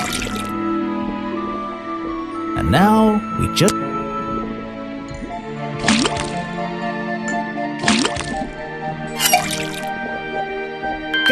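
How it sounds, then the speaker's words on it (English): Drips from a faucet in the point-and-click adventure game Detective Grimoire, a series of watery plinks with falling pitch, repeating every couple of seconds over a humming game background while someone talks. "First thing we do is then tap the faucet."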